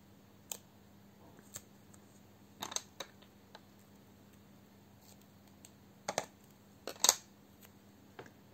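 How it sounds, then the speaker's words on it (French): Small inexpensive scissors snip double-sided tape for a Christmas scrapbook album in a few quiet, crisp, irregularly spaced cuts, with a short cluster of snips near the end against a faint background hum. "pour découper du scotch double face, je me suis réservé un ciseau spécial"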